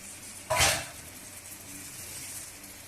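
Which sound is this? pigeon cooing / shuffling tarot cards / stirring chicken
stirring chicken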